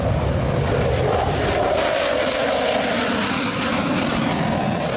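A loud, continuous roar of an F-35 military fighter jet passing overhead, a broad rushing drone that fills the whole clip without pause.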